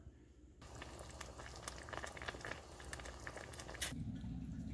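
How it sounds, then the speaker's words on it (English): Fettuccine pasta noodles cook in a pot of salted, oiled boiling water, giving a soft, quiet bubbling and faint crackle that continues throughout without talk. "I'm going to add a half a pack of my fettuccine pasta noodles to my boiling water"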